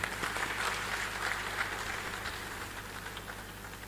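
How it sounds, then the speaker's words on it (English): Audience applause fills a university research and innovation day inauguration session, a steady wash of many hands clapping at a fairly low level, sustained evenly throughout with no voices over it. "Let's give them all a warm round of applause as a token of appreciation"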